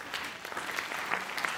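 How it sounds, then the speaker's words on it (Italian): A theater audience gives applause to welcome the comic actor Ficarra onstage, a brief burst of fairly faint, even clapping. "Sì, che applauso meraviglioso"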